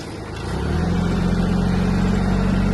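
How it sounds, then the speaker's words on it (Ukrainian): A Kubota A-195 Japanese mini tractor engine runs, its low steady diesel drone rising as it picks up over the first half second, then holding an even, throbbing tone close by. "Працює трактор дуже чесно."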